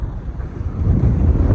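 Strong wind buffets the microphone while cycling a bikepacking route through the Andes, a loud low rumbling roar that swells slightly.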